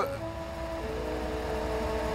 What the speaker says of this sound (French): je crois que j'entends la voiture du maire arriver au coin de la rue